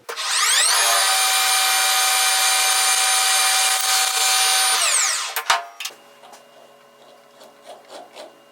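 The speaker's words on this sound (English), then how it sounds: "27/64 drill, and we're going to go in there right at an inch deep" A 27/64 drill bit bores a hole about an inch deep, giving a loud, steady whining drone for roughly five seconds that then winds down, followed by scattered scraping and tapping as the cut stops.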